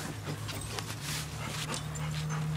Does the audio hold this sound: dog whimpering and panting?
yes